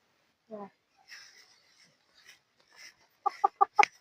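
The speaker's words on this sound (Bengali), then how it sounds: "এটা তো চোরা মুরগি" A chicken gives a few short, sharp clucks in a quick cluster near the end, preceded by sparse, faint sounds and a brief voice-like call in an otherwise quiet space.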